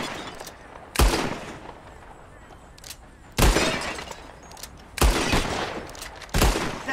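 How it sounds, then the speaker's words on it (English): Four sharp gunshots ring out at spaced intervals, each followed by a bright crash of breaking glass, as bottles are shot in a Red Dead Redemption 2 shooting contest, with quiet ambience between shots. "Whoever shoots more of these bottles wins."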